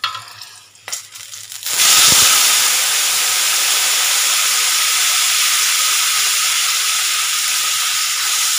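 Raw mango rasam poured into a pan of hot tempering with chilli powder, the stove just switched off: a few faint clinks, then a sudden loud, steady hissing sizzle that holds on without letting up.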